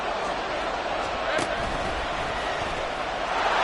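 A stadium crowd in the Madden football video game roars steadily as Jacksonville faces third and goal, running as a constant wash beneath an announcer's play-by-play commentary.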